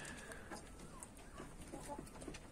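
Chickens cluck softly in a coop with a few short calls scattered over a faint, steady background.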